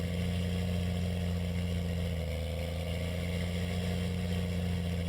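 John Deere 7930 tractor engine in Farming Simulator 19, a steady, loud diesel drone with a deep, even hum that stays constant throughout.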